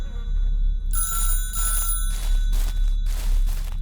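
A ranger phone in the woods of a Dovecraftian horror video game rings in repeated bright, trilling bursts over a low ambient hum, fairly close and loud with no talk.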